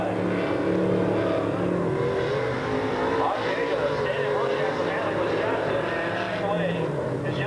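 Off-road race vehicles at a CORR event at Crandon racing the first lap past the finish line, a dense continuous roar of engines swelling and revving, with race commentary running over it.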